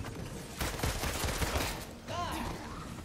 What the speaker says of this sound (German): der ist explodiert